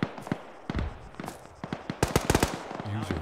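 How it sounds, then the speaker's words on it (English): Gunfire in the video game ARMA 3 aimed at a BMP armored vehicle: irregular sharp shots and short bursts, some close and loud, others quieter, scattered across the stretch with brief gaps. "It's really hard to shoot the BMP that keeps spawning and despawning."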